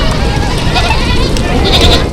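A herd of goats bleats repeatedly during a grazing landscaping job on a hillside road crossing, with loud wavering calls overlapping one another under a person talking.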